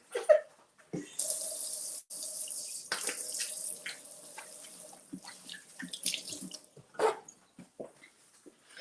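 Tap water runs steadily into a kitchen sink as hands are washed, a continuous splashing hiss lasting several seconds before cutting off, followed by a few faint knocks and drips.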